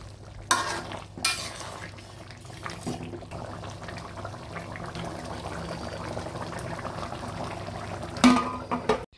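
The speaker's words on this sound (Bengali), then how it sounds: "এখন আমি নেড়ে চেড়ে দিচ্ছি আবারও" A spoon scrapes and stirs curry in a pan, intermittent clatters over a low steady simmer, with a couple of louder knocks at the start and near the end.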